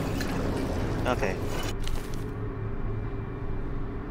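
Liquid pours steadily in the survival horror game Amnesia The Bunker, a continuous close splashing and filling stream that runs throughout at an even, fairly loud level.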